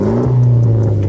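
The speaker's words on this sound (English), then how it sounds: "we have this blue tip Spec D exhaust that just sounds really well with this car" A Mitsubishi Lancer Evolution X with a Spec D aftermarket exhaust revs briefly, a short rising roar close by.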